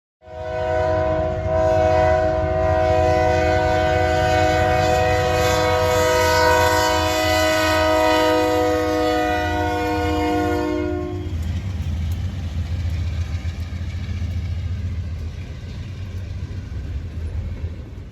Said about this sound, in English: but then we saw the train move